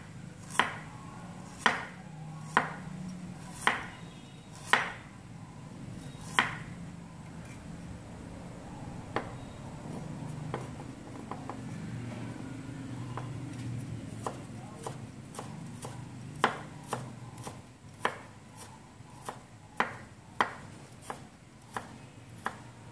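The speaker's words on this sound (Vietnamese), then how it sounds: "Gừng các bạn sẽ thái sợi cho mình, gừng hoặc các bạn thái lát mỏng ra là được nhé." A knife chops ginger into thin strips on a cutting board in a kitchen, sharp regular knocks coming in quick bursts with short pauses, close and fairly quiet.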